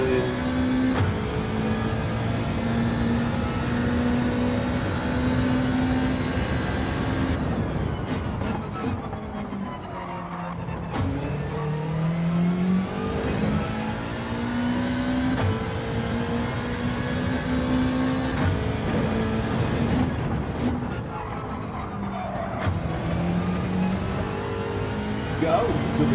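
A Subaru WRX engine races in Gran Turismo 7, revving hard and rising through gears with repeated shift drops, loud and continuous for the whole stretch.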